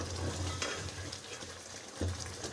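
Milk cream (malai) simmering in a pan as it renders into desi ghee: a soft, faint bubbling crackle with a few light stirring knocks, no talking.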